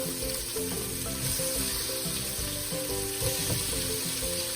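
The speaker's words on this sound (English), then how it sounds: "I'm gonna add the shrimp." Large shrimp sizzling in a hot pan for shrimp scampi, a steady, close, loud frying hiss that runs unbroken throughout with no talking.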